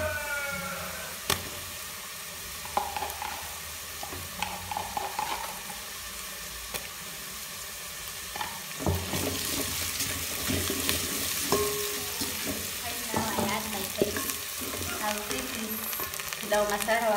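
Onions frying for pilau in a pan, a moderate sizzle with scattered stirring scrapes and clinks, growing louder and more intense about halfway through, with no talking.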